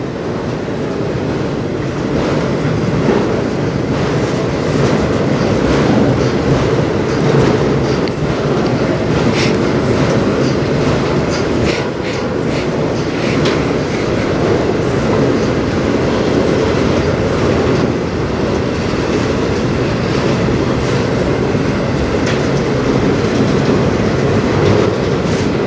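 A CN freight train passing on the Strathroy Subdivision: loud, close, continuous rumble of wheels and cars with rhythmic clickety-clack and occasional metallic squeal, steady throughout with no talking.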